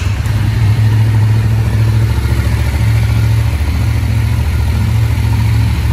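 A Honda CBX 550 motorcycle engine runs steadily at a close distance, a loud, even mid-pitched rumble with a constant throbbing pulse and no voices over it.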